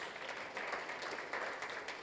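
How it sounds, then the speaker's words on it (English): An audience at a digital transformation forum claps steadily, a dense patter of many hands heard from some distance and fairly faint, without pause. "a hand of applause to yourselves"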